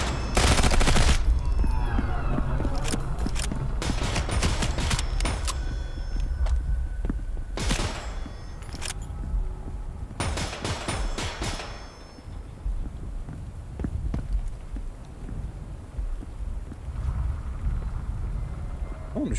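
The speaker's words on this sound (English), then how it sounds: "Just gonna shoot him." Gunshots ring out in a Transience firefight, loud rapid bursts at the start followed by scattered single shots and short volleys, with a low rumbling background between them and no talking.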